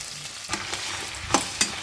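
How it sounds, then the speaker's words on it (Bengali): Cut kundru (ivy gourd) fries over high heat in oil left from frying potatoes, a continuous close sizzle punctuated by a few quick stirring scrapes of a spatula. "কুঁদরিগুলোকে ভালো করে একটু ভাজবো 2 মিনিট"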